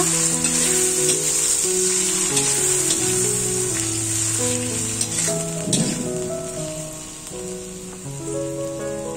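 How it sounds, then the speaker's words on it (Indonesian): Bean sprouts stir-fried in a hot pan give a constant loud sizzle with occasional stirring scrapes, heard throughout under melodic background music. "Masukkan taugenya, aduk rata."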